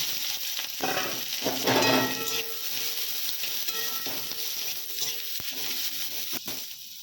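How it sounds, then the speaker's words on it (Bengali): Onions sizzle and crackle in hot oil, a steady frying hiss with occasional stirring clicks, close up and without talk. "কিছু পেঁয়াজ ভেজে নেব।"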